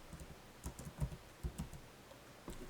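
Light typing on a computer keyboard, a short run of soft, quiet key clicks in a few uneven bursts with brief pauses between them.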